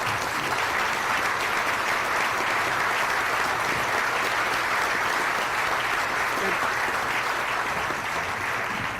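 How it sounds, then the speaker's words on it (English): Sustained, loud applause from a large audience at a city's state of the city address, honoring a woman for her years of service, a dense, even roar of clapping throughout. "we could give her a round of applause for her many, many years of service"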